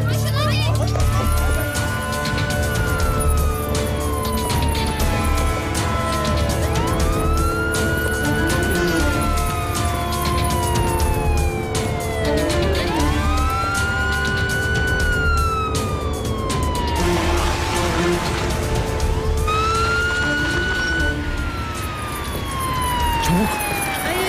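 A police car siren wails in repeated rising and falling sweeps, loud and near, with a running engine underneath and people talking over it.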